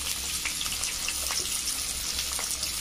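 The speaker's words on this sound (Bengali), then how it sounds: "পেঁয়াজটা হালকা হালকা ভাজা হচ্ছে।" Chopped onion and garlic with cumin fry in a pan, giving a close, constant sizzling hiss with fine crackles throughout.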